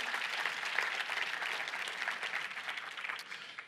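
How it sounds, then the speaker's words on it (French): A church congregation applauds during a morning service, a steady, dense roar of many hands clapping that carries on throughout and eases slightly toward the end. "Vous avez le droit même de vous donner une main d'applaudissement ce matin"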